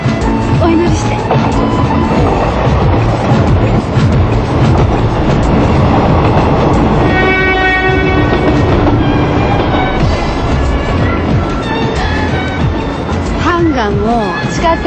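A subway train rumbles and clatters loudly and continuously, with wheel squeals and rail noise filling the whole stretch while people talk over it.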